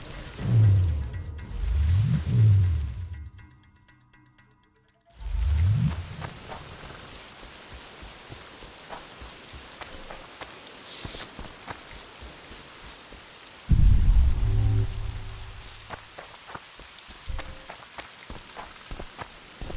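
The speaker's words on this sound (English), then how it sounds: "Ooh, it's raining." Rain falling in the video game The Witcher 2, a steady hiss of drops on surfaces with soft pattering, interrupted by louder low thumps and a brief near-silent gap.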